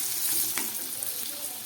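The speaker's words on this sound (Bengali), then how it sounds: "এবার আমি দিয়ে দিচ্ছি এর মধ্যে 4টে কাঁচা লঙ্কা" Four green chillies hit hot oil in a pan of partly fried brinjal, giving a bright steady sizzle with a short burst of spatter and stirring noise near the start, close and continuous.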